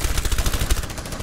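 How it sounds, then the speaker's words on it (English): Rapid gunfire from the Rainbow Six Siege video game, a steady string of sharp shots at an even rhythm, heard fairly close and alone. "Multiple shots fired."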